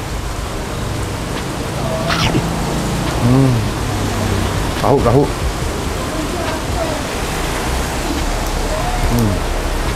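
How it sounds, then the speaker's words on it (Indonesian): Steady rain falls outside a street food stall selling fried offal, a constant hiss filling the background while a person speaks briefly over it. "Ini kan di depan lagi hujan, jadi agak slowly pembelinya."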